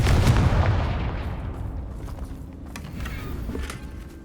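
Confringo fire-spell explosions in the Hogwarts Legacy video game: a loud booming blast that rolls off over a few seconds, followed by a second softer burst with crackling debris.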